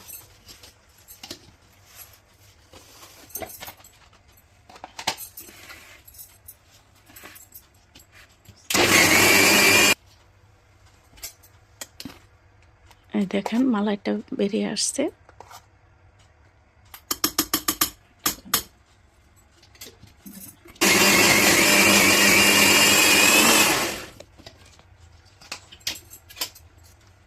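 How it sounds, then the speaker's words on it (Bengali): A kitchen blender churns milk cream to split butter from buttermilk for homemade ghee, running in three loud separate bursts of a few seconds each, with quiet handling and a brief spoken line between them. "তো আমি এখন ব্লেন্ডার করে নেব।"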